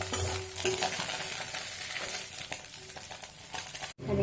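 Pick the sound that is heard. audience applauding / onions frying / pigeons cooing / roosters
onions frying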